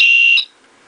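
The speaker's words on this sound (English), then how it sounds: "So the power button is dedicated to 2 short beeps," A Star Trek TNG phaser-styled universal remote control sounds a loud, shrill electronic tone from its power button, one sustained beep lasting under half a second and then cutting off to near silence.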